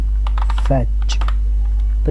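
Rapid keystrokes clatter on a computer keyboard, close and steady, over a constant low electrical hum with a brief tonal blip of background sound.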